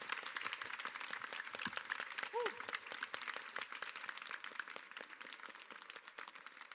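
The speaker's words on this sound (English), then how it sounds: "can we have another big round of applause for Ade, please?" An audience at a panel talk applauds Ade Adepitian with steady, fairly faint clapping that fills the whole stretch, a few voices mixing in.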